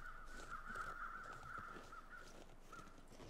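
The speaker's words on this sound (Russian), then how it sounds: "полетели эти птицы" Crows caw repeatedly in a snowy wilderness in the survival video game The Long Dark, harsh calls fairly loud and close over a soft windy backdrop, with no talking.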